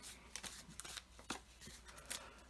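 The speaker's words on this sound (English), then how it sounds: "I'm just going to shuffle them up here" Close, quiet riffling of playing cards being shuffled, with several quick crisp bursts and soft taps in between.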